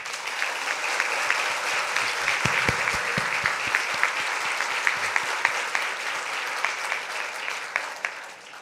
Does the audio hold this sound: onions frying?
no